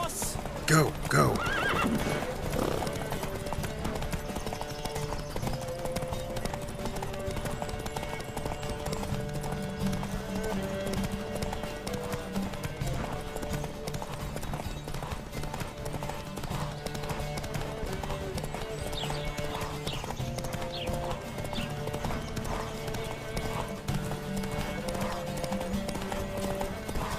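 Horses galloping in a race in The Witcher 3, a continuous rapid clatter of hooves with a whinny near the start, running under steady game music and character voices throughout.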